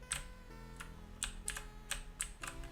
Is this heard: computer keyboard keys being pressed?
yes